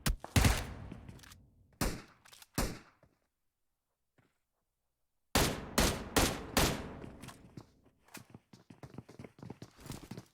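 Rapid bursts of gunfire in the mobile battle-royale game PUBG Mobile, sharp close shots in clustered volleys with a quiet gap midway, then a long run of repeated shots at a slow, steady rate.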